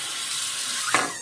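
Hot water pours steadily into a shaving bowl for a wet shave with Italian barber soap, a close, continuous splashing rush, with no talking.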